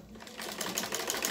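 A sewing machine stitches the neckline of a fatua, a short, close burst of rapid, even needle clatter lasting just over a second.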